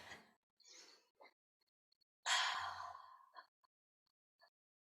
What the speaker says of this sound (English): Take some nice deep releasing breaths.